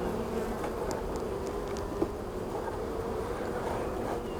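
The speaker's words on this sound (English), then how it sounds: "you can see there's a lot of bees in here" Honey bees fill a queen castle hive box with a steady, fairly quiet droning buzz, up close and unbroken throughout.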